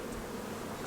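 Honey bees buzzing in an open hive, a steady close drone from many insects with no pauses.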